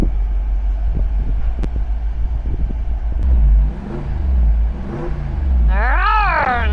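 A Jeep Wrangler 392 engine revs loudly up close, a deep rumble that swells and falls in repeated surges, ending in a rising, wavering high tone.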